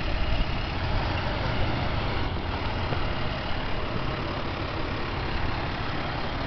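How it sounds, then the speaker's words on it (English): Heavy trucks idle with a steady low diesel rumble near the scene of a fire, a continuous broadband drone with no distinct passes and no talk over it. "Trucks pulling in."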